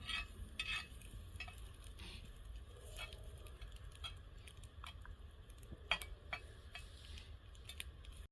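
Eggs fry in a pan over a campfire, giving a faint, steady sizzle scattered with small ticks and scraping stirs, with no talking.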